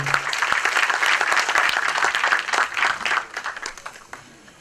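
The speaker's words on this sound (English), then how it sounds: "can we have our hands together a little louder?" An awards ceremony audience applauds with steady, dense clapping that gradually thins and fades toward the end.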